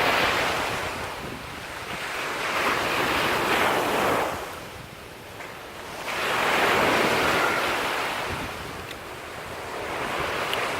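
High-tide ocean waves surge and wash onto Barcelona's open beach in broad, rolling swells that rise and fall, with steady wind buffeting close to the microphone.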